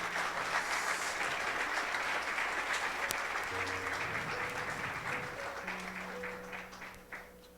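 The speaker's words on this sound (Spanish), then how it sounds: "Dale un aplauso al Señor" Congregation in a church applauding continuously for several seconds, a dense wash of clapping with a faint tone or organ note underneath, tapering slightly toward the end.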